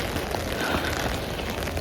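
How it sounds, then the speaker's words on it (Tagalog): Heavy rain pours down outdoors, a dense, continuous hiss and patter that fills the scene evenly with no voices. "lumakas din yung ulan"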